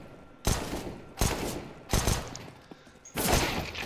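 P250 pistol shots in a CS:GO tournament match, four sharp, loud reports spaced roughly 0.7 seconds apart, each leaving a short decaying tail.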